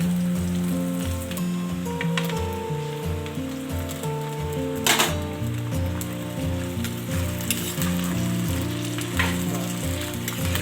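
Chicken sizzles and fries in a pan with green chillies and curry leaves, a loud continuous crackle with stirring scrapes and a few sharp spatters; no talking.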